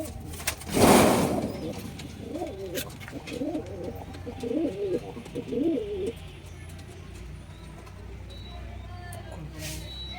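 Giribaz and Madras pigeons coo in a run of soft, throaty, rolling phrases close up, after a sharp burst of flapping or handling noise, then fall quiet over a faint background hum.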